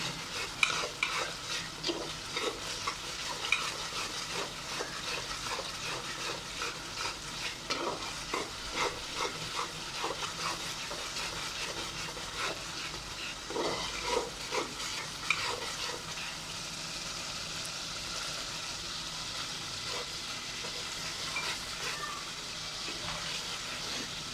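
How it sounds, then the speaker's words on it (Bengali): Spiced masala sautéing and being stirred in a pan for a home-style Bengali dish, with a steady close sizzle and repeated scraping and clinking strokes of the spoon throughout, no talk. "তো এখন আমি ভালো করে কষিয়ে নেব মশলা দিয়ে"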